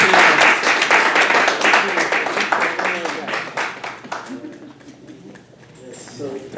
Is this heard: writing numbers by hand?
no